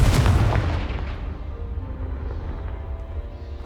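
A Confringo blasting spell in Hogwarts Legacy strikes a pile of debris blocking a stairwell: one loud, deep boom that rumbles and slowly fades over a few seconds.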